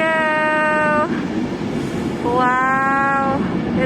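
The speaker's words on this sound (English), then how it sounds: "That's what we're waiting for, just to see the train." A train arrives at Preston station in England, sounding two loud sustained harmonic horn or whistle tones over a rumbling platform roar.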